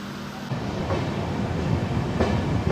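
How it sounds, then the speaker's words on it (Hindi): A passenger train pulls out of Anand Junction, an electrified station in the Vadodara division, its wheels clattering steadily over the rails with a dense rumble that swells as it gains speed. "हमारी ट्रेन आनंद जंक्शन से डिपार्ट करते हुए हमारी ट्रेन ने एकदम राइट टाइम पे डिपार्ट किया है यहाँ से"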